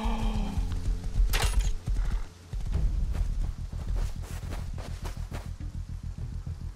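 A horse in the survival game Rust snorts and whinnies, then its hooves fall into a quick, even clip-clop that carries on close and loud to the end, with no voices over it.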